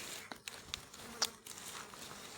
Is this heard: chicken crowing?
no